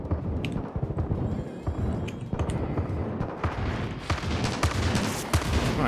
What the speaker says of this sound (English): Guys, I need cover fire now.